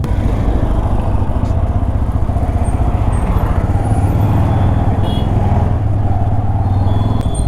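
Steady motorcycle engine drone with surrounding road traffic in Gachibowli, Hyderabad, continuous and close, with occasional horn-like tones over the rumble.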